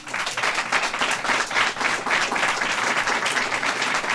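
Audience applause at a governor's press conference on a state SNAP program: a dense, steady roar of many hands clapping, loud and even from start to finish.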